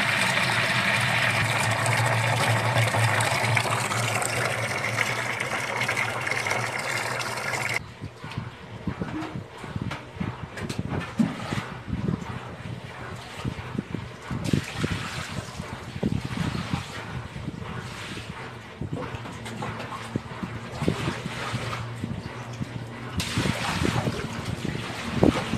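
Used washing machine water with fabric softener being poured out onto a backyard: a steady, close rush and splash of water, then several seconds of irregular splattering and trickling outdoors, with wind buffeting the microphone.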